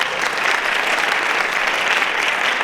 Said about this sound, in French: Claire Simon, merci de l'applaudir.